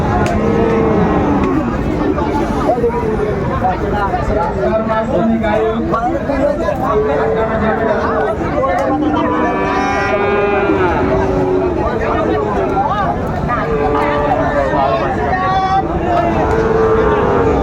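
Sahiwal bull calves lowing at a busy cattle market, several loud moos rising and falling one after another close by, with crowd chatter and voices talking throughout.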